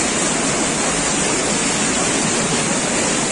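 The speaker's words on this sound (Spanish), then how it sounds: "Fuerte crecida, miren, amigos." A loud, steady roar of rushing flood water fills the air without pause, broad and dense like a torrent pouring past close by.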